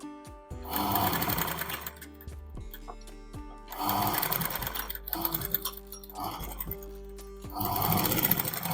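A sewing machine stitching the lining of a bridal blouse neckline runs in three bursts of rapid mechanical whirring, each separated by brief pauses with small clicks and handling noises, close up and fairly loud.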